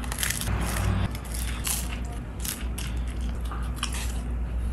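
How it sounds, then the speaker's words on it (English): Crunchy bite into a homemade beef avocado burrito, a chewing, crushing crunch that repeats over several seconds, close and fairly loud, with no talking. "just listen to that crunch"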